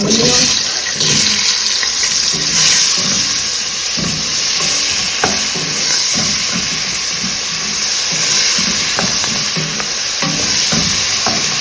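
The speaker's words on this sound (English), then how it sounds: "Let's go ahead and add our onion." Chopped onion fries in hot coconut oil for an oil rice dish with salted beef, giving a loud, steady, close sizzle with small crackles and occasional stirring clinks throughout.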